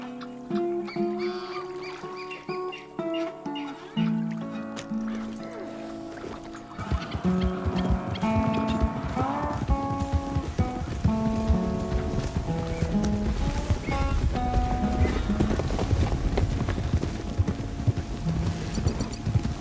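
Horses' hooves clip-clop steadily on a road in the western game Red Dead Redemption, a loud continuous patter of hoofbeats over a musical score, with no talk.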